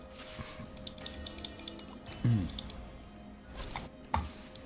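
Computer mouse clicked rapidly during a League of Legends match, a faint string of light clicks and taps in quick irregular succession over a quiet background.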